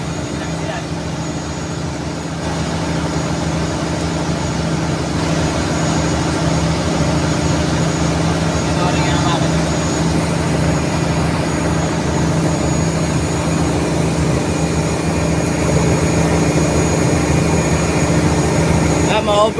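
A passenger boat's engine drones loudly and steadily at speed on open sea, a continuous low hum with a tonal whine, while someone talks over it throughout.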